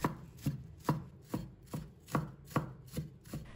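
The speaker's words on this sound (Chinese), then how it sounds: "再切成丝， 然后改刀切成葱花。" A knife chops a halved length of scallion into small pieces on a board, eight crisp, evenly spaced knocks in a steady rhythm, close and alone with no talk.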